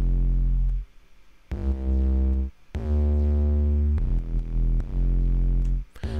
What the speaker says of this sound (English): I got an 808 going on right here.